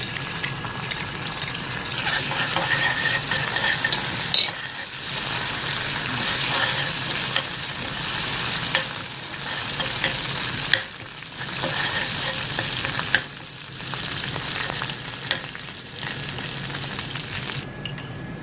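Ginger garlic paste sizzles and fries in a pan with onions and is stirred steadily, a dense continuous hiss with spoon scrapes and brief dips, for a Hyderabadi dal; no talking.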